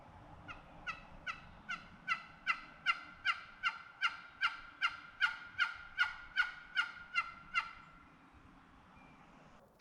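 A wild turkey gobbles in a forest at dawn, a long series of about eighteen evenly spaced clucking calls, clear but moderately distant over quiet woodland, with no talking.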